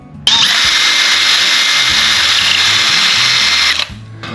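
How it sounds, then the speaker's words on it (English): A power drill whines steadily at high speed for a few seconds, loud and close, drilling a hole in a handle, then spins down and stops. "and drill away."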